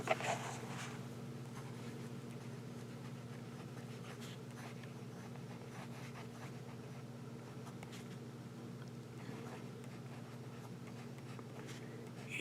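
A Lamy Safari fountain pen with an oblique broad nib writes on paper, its soft scratchy strokes faint beneath a steady low mechanical hum that runs throughout.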